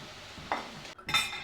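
Fried potatoes are lifted out of a pan of oil with a metal utensil, giving two short clinks and scrapes against the pan over a faint sizzle, quiet and close.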